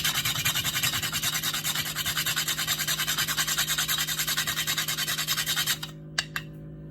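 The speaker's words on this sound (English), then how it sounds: "Then I'm gonna grate in some nutmeg" Nutmeg is grated in quick, even rasping strokes, close and crisp, repeated steadily for about six seconds before it stops with a couple of light taps.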